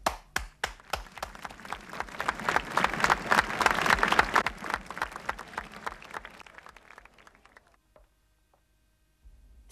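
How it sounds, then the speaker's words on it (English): Hands clapping, starting as separate sharp claps that swell into a dense burst of group clapping, then thinning into scattered claps and stopping in near silence. "When you clap, sound energy is produced"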